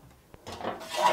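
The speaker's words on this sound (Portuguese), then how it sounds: "Deixa eu passar essa panela pra cá." A cooking pan slides and scrapes across a kitchen counter while pão de queijo is being prepared, a close, rough rubbing sound that builds over about a second after a brief knock.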